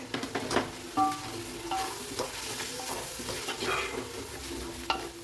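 Ginger garlic paste being sautéed in oil with handfuls of fresh mint and coriander for chicken dum biryani, a close steady sizzle broken by repeated spatula scrapes and stirring knocks against the pan.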